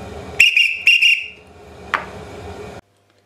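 Handmade brass pea whistle with a rectangular mouthpiece sounds two loud, trilling blasts in quick succession, then a short sharp chirp, with no voices.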